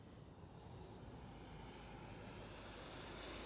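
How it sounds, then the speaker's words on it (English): At Amsterdam Schiphol, a Boeing 777-300ER in orange pride livery rumbles on the Kaagbaan runway, a faint distant jet roar that builds gradually and evenly with nothing else over it. "Kaagbaan Boeing 777-300ER with the orange pride livery."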